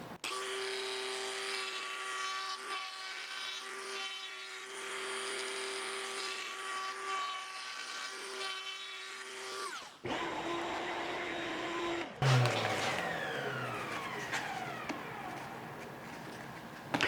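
A power tool cuts the rosette channel into a guitar top with a steady loud whine for about ten seconds, then after a short break it starts again with a rougher, grinding tone.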